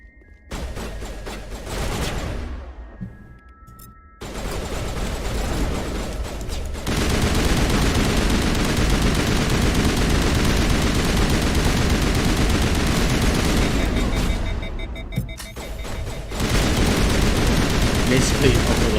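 Sustained gunfire and combat noise in Mass Effect Legendary, a dense loud barrage running for long stretches with brief drops, a voice heard early on under the din.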